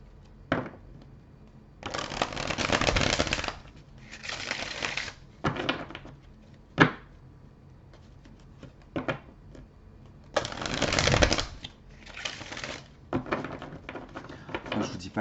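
Tarot cards are shuffled in several loud, close bursts of rapid riffling and flicking, separated by short pauses and lighter card handling.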